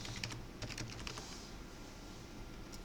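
Keys tapped on a computer keyboard while a command is entered into CAD software, a quick run of light clicks in the first second, then sparser taps fading into a low room hum, with no voices.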